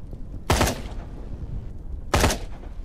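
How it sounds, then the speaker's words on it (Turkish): Two separate loud gunshots from a Quantum Error first-person shooter on PS5, each a sharp close bang with a short decaying tail, spaced about a second and a half apart over faint background noise. "Ateş edeyim bakayım"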